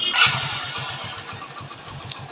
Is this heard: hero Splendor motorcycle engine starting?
yes